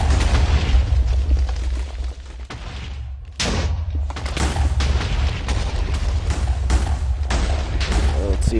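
Bomb Lobber video game explosions: dense, loud booming blasts and rumbling bursts fill the whole stretch, with a brief dip near three seconds before another strong blast.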